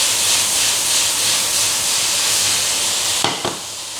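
Mushrooms with curry powder and soy sauce sizzle loudly in a pan for a vegetable noodle stir-fry, a steady broadband hiss throughout with a couple of sharp spatter bursts near the end, no voices.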